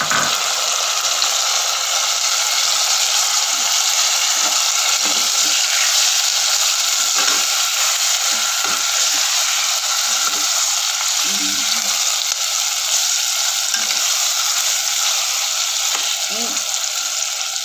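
Chicken for tinola cooks in a pot with a constant loud sizzle and frying hiss, broken by scattered pops and stirring noises.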